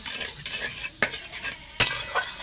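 A spoon stirs fish curry with turmeric and salt in a pan, giving soft scraping swirls and a light sizzle. Two sharp knocks against the pan stand out, close and clear, with no one talking.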